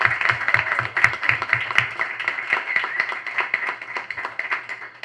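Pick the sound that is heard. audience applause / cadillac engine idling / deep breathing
audience applause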